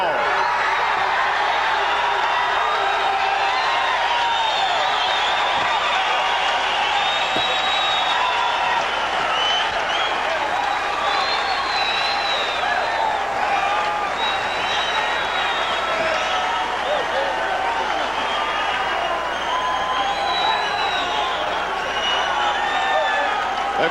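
A boxing crowd in Toledo, Ohio roars and applauds a 19-year-old fighter after a big upset, a loud sustained wall of cheering, whoops and clapping that holds steady throughout without a break.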